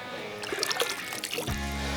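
Pool water from a test kit tube is tipped out in a brief trickle and splatter of small drips, followed by a low steady hum, close and quiet with no speech.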